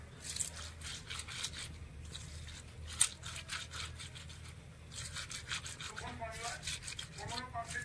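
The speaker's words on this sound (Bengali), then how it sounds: "মাছগুলো আমি ঘষে নিচ্ছি, একটা একটা করে বাছতে গেলে অনেক টাইম লাগবে।" Small mourola fish being rubbed together by hand to clean them, quiet close scraping and rubbing strokes in a loose repeating rhythm, with a sharp clink near the middle.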